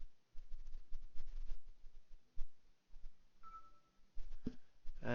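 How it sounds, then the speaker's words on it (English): A phone gives a short electronic beep, a brief steady tone near the end, faint beneath the quiet clicks and background of a computer strategy game session. "And my phone goes beep."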